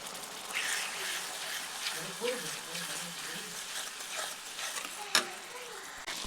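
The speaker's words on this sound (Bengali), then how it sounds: "তো এরপরে আদা রসুনটা কিছুক্ষণ ভেজে নেবো যাতে আদা রসুনের কাঁচা গন্ধটা চলে যায়।" Ginger-garlic paste for matar paneer fries in a pan with a soft, steady sizzle and light stirring scrapes. A sharper clink comes near the end, and a voice speaks faintly over it.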